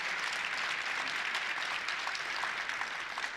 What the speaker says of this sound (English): Will you please give this panel a round of applause?